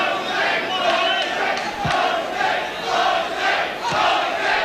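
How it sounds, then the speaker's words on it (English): A boxing arena crowd chants a fighter's name in a rolling, rhythmic roar that swells and dips repeatedly, loud and continuous throughout. "Crowd taking up a chant of Jose."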